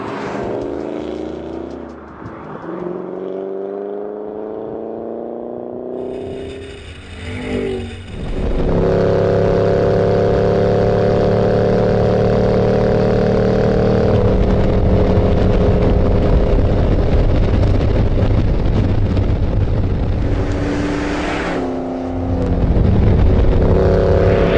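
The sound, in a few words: 2013 Ford Shelby GT500 driving flat out on oval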